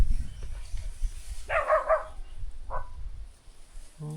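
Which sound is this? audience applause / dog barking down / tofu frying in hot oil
dog barking down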